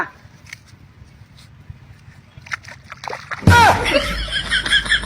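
Water splashes and sloshes loudly as someone is doused in a bath on a cold winter day, a sudden burst of splashing after quieter talk and laughter, with voices continuing over the water.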